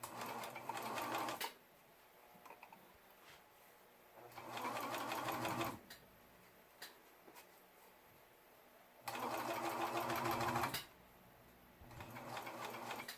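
A serger stitches beads onto a T-shirt sleeve in three loud, steady running bursts, separated by quiet pauses.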